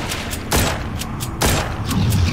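Gunfire in the zombie shooter game The Walking Zombies 2: two loud, sharp bursts about a second apart over a steady low game rumble, close and unaccompanied by talk.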